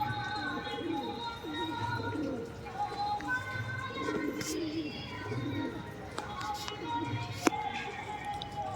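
Pigeons coo softly in low repeated throaty calls as they land on a house rooftop in the evening, fairly faint, with someone talking over them and some scattered chirps.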